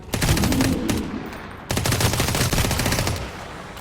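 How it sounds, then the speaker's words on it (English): Rapid rifle fire in Dysterra cracks out in two long bursts separated by a short pause, loud and close, with rattling shots over a busy game background. "although I'm not in burst mode on the weapon, I am firing in bursts"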